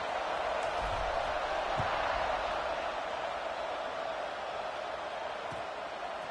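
Stadium crowd in a college football video game with Notre Dame facing Tennessee, a steady broad roar of cheering fans held at an even level throughout, with faint thuds underneath.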